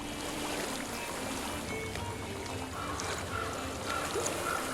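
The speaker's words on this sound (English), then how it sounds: "I hear water. Go to it." Steady flowing water from a stream in the video game Hellblade: Senua's Sacrifice murmurs continuously at a moderate distance, a soft even rush with faint higher trickles.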